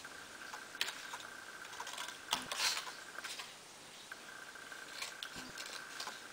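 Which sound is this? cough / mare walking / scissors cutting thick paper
scissors cutting thick paper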